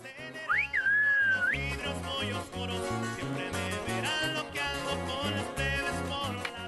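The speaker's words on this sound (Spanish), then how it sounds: "Silbo gomero, si no, ¿qué hago? Les grito, me quedo afónico." A goatherd whistles in Silbo Gomero, the whistled language of La Gomera, calling out to shepherds with a loud, piercing sliding whistle near the start and fainter whistled phrases later, all over steady rhythmic music.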